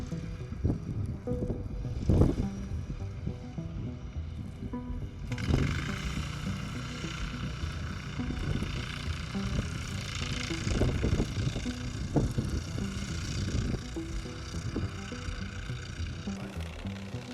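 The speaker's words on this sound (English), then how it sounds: "The driver decides to move through deep water." An ATV engine drones steadily while driving through deep water that churns and splashes around it, with occasional louder surges and thumps, close and continuous.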